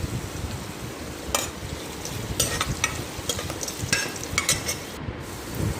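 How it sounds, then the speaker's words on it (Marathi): Chopped onion and crushed garlic cloves fry in a pan for a Marathi brinjal-potato dish, giving a steady close sizzle broken by several scraping stirs, with no voices. "आणि कांदा लाल होईपर्यंत परतायचा."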